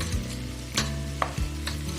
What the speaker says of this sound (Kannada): ಮೀಡಿಯಂ ಫ್ಲೇಮಲ್ಲೇ ಇಟ್ಟು 10 ನಿಮಿಷ ನೀಟಾಗಿ ಫ್ರೈ ಮಾಡ್ಕೊಳ್ಳಿ. ಆಗಾಗ ಹೀಗೆ ಕಲಿಸ್ತಾ ಇರಿ.